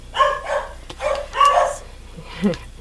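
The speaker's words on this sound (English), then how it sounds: "Your dogs might be barking because of mine." A dog barks several times in quick bursts nearby, followed by a higher whine or yip, with a low hum in the background.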